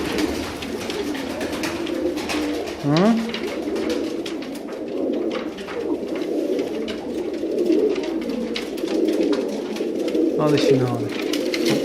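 Pigeons coo in a loft among tumbler birds, low rolling coos and wing flutters under close, frequent conversation from several men.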